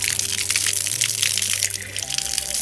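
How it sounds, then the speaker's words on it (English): Water from a 1 horsepower solar-powered borehole pump gushes steadily into a poly storage tank, a continuous close splashing flow with no pauses. "Water's put inside of the borehole poly tank."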